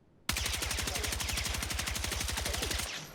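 Rapid, evenly spaced automatic bursts from an AK-205 carbine in Battlefield 6, a sustained loud string of shots after a brief pause, with no talk over it.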